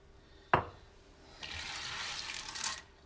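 Dried beans being rinsed in a kitchen sink: a sharp knock, then tap water runs and splashes steadily for about a second and a half, faint and close.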